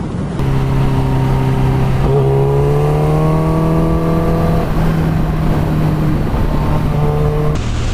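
A KTM Super Duke GT motorcycle accelerates hard, its engine note rising steadily in pitch through the gears with a brief shift break, loud and close under constant wind rush.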